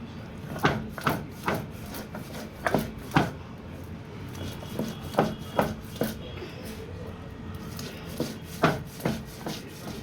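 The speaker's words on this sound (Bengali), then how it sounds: "পোস্তটা বেটে নেবো।" Poppy seeds and green chili are ground by hand, giving repeated rough scraping and rubbing strokes at an irregular rhythm, moderately close and fairly soft.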